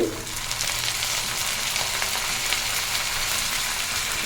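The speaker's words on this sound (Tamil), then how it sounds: "வெங்காயம் நல்லா வதங்கிடுச்சு" Onions sauté in hot oil in a pan, making a steady, close, dense sizzle that holds evenly throughout without talk.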